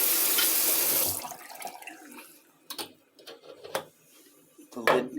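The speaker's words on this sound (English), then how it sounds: "I'm going to wash off the lid here" Tap water gushes loudly over the lid of a black-and-white film developing tank for about a second, then stops. Softer clicks and handling knocks of the lid follow, close by.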